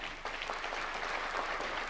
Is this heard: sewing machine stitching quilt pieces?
no